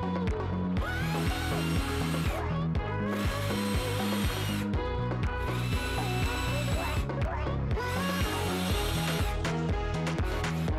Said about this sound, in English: making sure to pre-drill and countersink our screws.